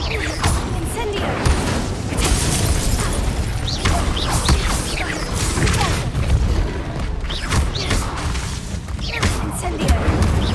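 Incendio fire spells are cast again and again in Hogwarts Legacy, each one a loud burst or whoosh in a dense, nonstop run of blasts and impacts from combat.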